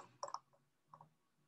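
Two faint, close keyboard key clicks about two-thirds of a second apart, crisp and isolated against a quiet room.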